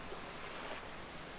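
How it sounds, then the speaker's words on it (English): Rain falling in the survival video game Vintage Story, a steady, faint, even patter and hiss that holds unchanged throughout, with no voices or other sounds. "Alright, I'm up. It's raining."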